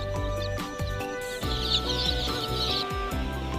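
Chickens cluck and murmur close by, several birds calling over a steady mechanical hum.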